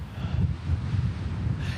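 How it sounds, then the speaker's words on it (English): Powerful wind gusts sweep through Evergreen, Colorado, buffeting the microphone with a continuous low, surging roar that swells and eases over a couple of seconds, with no voices. "And Kelly, that wind really causing havoc there."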